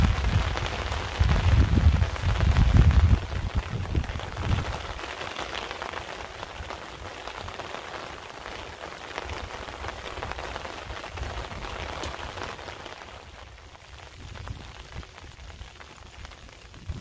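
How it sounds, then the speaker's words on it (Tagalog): Steady rain falls outdoors at a fishing spot in the rural Philippines as a typhoon approaches, a dense even hiss with a louder low rumble in the first few seconds, then a softer continuous patter with no voices. "Sana huwag masyado lumakas ang ulan"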